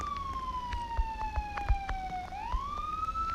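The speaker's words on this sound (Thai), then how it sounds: "เฮ้ย รถตำรวจมา" A police siren in the Roblox game Midnight Motel wails in a slow falling-then-rising sweep, steady and fairly close, with soft thuds and clicks underneath.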